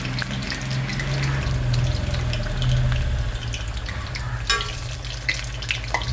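Food sprinkled with black sesame fries crisp in a pan with a constant, close sizzling hiss, broken by a brief utensil clatter and a few light knocks toward the end; no one speaks.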